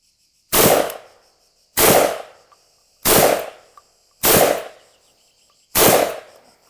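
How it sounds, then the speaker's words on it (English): Five 12-gauge magnum shotgun blasts are fired from a Molot VEPR 12 at an even pace, about one per second. Each shot is loud and sharp and is followed by a brief decaying echo, with near silence between. "Shooting with a 12-gauge Magnum is an experience I recommend to everyone"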